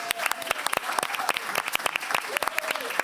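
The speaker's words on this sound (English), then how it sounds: "Yeah, we can applaud for that." An audience applauds at a talk event at Pakhuis de Zwijger, a dense burst of many hands clapping that continues steadily for a few seconds.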